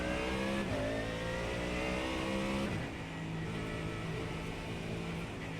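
A continuous race car engine drone in a Porsche Cup racing video game holds a steady pitch, then drops and shifts tone as the revs change. No voices.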